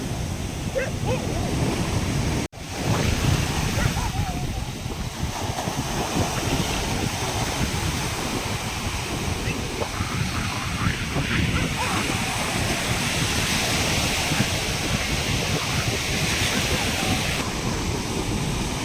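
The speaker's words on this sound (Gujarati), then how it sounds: "જો દરિયામાં આવ ગાંડો છે, જો મોજા જો કેવા ઉછળે છે" Rough sea surf breaking on the shore, with boats out on the water, makes a loud, continuous broadband roar mixed with wind buffeting the microphone; a voice talks faintly beneath it.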